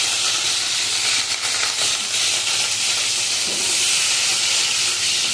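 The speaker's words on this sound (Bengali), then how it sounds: "আরে একটু তেল ফুটছে গো" Hot oil splutters while bitter gourd fries, a loud continuous hiss and crackle close by that holds steady with no talking.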